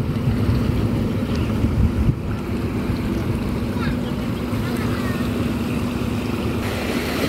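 A Basarnas patrol ship in Ulee Lheue harbor, Banda Aceh, sends a steady low engine drone across the water, mixed with strong wind buffeting the microphone and the wash of the sea.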